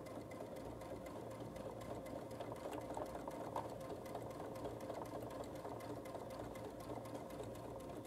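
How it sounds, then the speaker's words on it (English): A sewing machine stitches around a design on a stocking gift card holder, running in a fast, steady mechanical whir with rapid rhythmic needle clicks, close and continuous without speech. "we're going to go ahead and stitch around our design"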